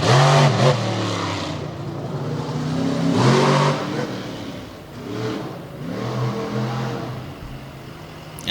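A monster truck engine revs hard on a freestyle track at a Bloomsburg, Pennsylvania show, rising and falling in several loud surging bursts at mid distance.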